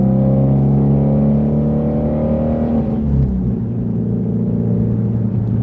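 A Ford Mustang S650 GT engine revs hard and holds a loud, throaty roar, then drops to a deep, rumbling idle partway through.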